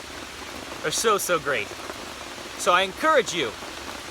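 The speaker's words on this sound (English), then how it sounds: "I'm gonna go enjoy the rain." Steady outdoor rain hisses as a constant soft wash while someone talks over it in two short bursts.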